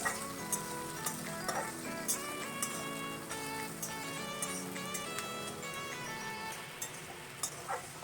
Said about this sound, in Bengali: কুচি করে কেটে রাখা পেঁয়াজগুলো এবার তেলে ছেড়ে দিলাম। ভালো করে ভেজে নিলাম লাল লাল করে